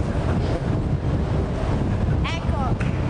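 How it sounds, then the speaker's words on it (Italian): Strong scirocco wind at a seaside spot buffets the microphone, making a loud, constant low rumble with a brief voice rising faintly near the end. "Che vento è questo?"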